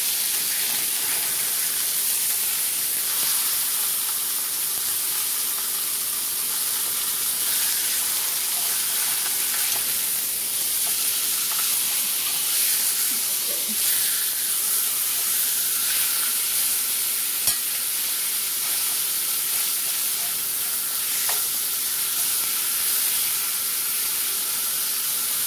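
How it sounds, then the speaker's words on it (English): Pork chops browning in a pan give a steady, loud, close sizzle with hissing steam that holds on without break for the whole stretch, with no one talking. "It says to brown them on each side for about 5 minutes."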